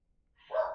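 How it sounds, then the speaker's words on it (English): A dog gives a single short bark, moderately close, after a moment of near silence. "I'm just ignoring the barking"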